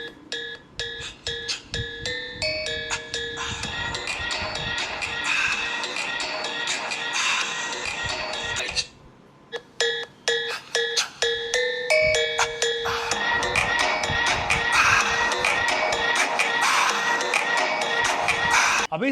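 Pair of iQOO Neo 10 and Neo 10R smartphone speakers playing lively test music with crowd-like energy, loud and steady throughout with a brief pause near the middle.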